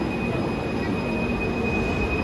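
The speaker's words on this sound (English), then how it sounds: "Bye-bye train." A driverless metro train in Kuala Lumpur passes close by with a loud, steady rumble and a sustained high wheel squeal.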